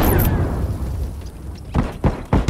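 A smoke bomb in The Last of Us goes off with a short burst at the start, followed by a low rumbling hiss and several sharper muffled pops near the end.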